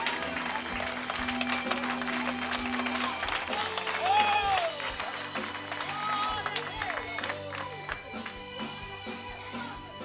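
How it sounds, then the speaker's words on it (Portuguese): A church congregation applauding during a worship service, with broad clapping and crowd noise over music and voices, loudest midway and continuing steadily throughout. "Você recebe isso, é para Jesus, aplaude com força."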